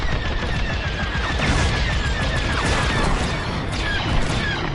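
Rapid, sustained blaster fire from starfighter weapons in Star Wars Squadrons, a dense crackling barrage layered over roaring engine noise, loud and continuous for several seconds.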